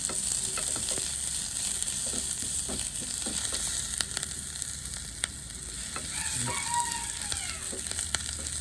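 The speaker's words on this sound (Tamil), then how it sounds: "இப்போ செத்தமிளகாயும் வெங்காயத்தையும் போடுறேன்" Dried red chillies and onion fry in hot oil in a pan, a close, steady crackling sizzle with occasional stirring clinks and a faint rooster crowing in the distance.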